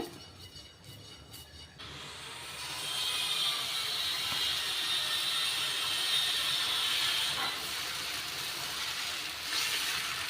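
Dosa batter hits an oiled hot pan and a steady, bright sizzling hiss builds and holds close by, with faint clinks from the pan.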